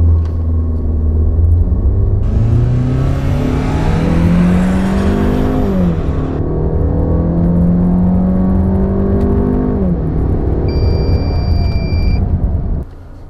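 A 2016 Land Rover Range Rover Evoque accelerates hard in a speed test, its engine note climbing steadily through several gear changes, loud and close, with no voices.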